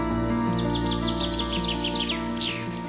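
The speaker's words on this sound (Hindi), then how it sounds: "उसने देखा तरह तरह के सुंदर पक्षी सुरीली आवाज में बातें कर रहे हैं" Several kinds of birds sing together beneath a large tree, a busy run of bright chirps and trills over a steady hum of background music, close and continuous.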